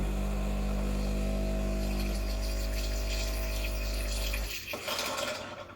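A Breville Dual Boiler BES920 espresso machine flushes water into its drip tray with a loud, steady pump hum and rushing water. The hum cuts off near the end, leaving a brief gurgling trickle.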